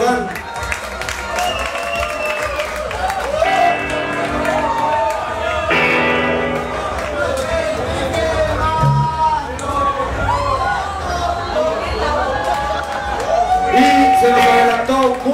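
An audience claps, cheers and whoops at a concert, with a steady, full crowd roar running the whole time, mixed with music and scattered shouts.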